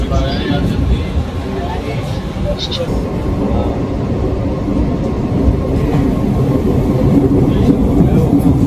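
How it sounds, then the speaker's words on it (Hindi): The Vande Bharat Express from Srinagar to Jammu runs with a loud, continuous rumble and rhythmic clatter, heard from on board, with faint voices underneath. "और ये है आपकी श्रीनगर से चल के जम्मू तक जाने वाली वंदे भारत एक्सप्रेस।"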